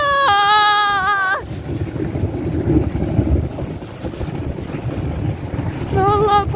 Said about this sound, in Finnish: täällä tuulee sikä paljon.